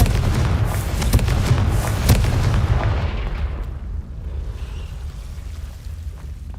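Blasting spell explosions in a video game: loud booming blasts with sharp cracks near the start, rolling into a long rumbling decay that fades to a low steady background.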